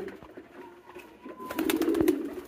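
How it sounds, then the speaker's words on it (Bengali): A male pigeon coos in a low, throaty burst near the end, chasing a hen pigeon in a loft, close and moderately loud over a soft background. "এটা দেখেন কি করতেছে, মুখী কবুতরটা।"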